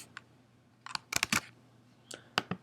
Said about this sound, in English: So now I'll just click join.